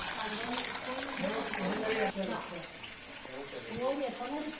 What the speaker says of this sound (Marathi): बाराही महिने या नंदीच्या मुखातून पाणी वाहत असते